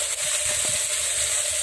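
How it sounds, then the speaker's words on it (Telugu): Onions fry in a pan, browning with mint and green chillies for a mushroom and potato curry. A close, continuous sizzle crackles steadily. "దాన్ని ఆ ఉల్లిపాయలతో పాటు మనం ఫ్రై చేసుకుంటాం."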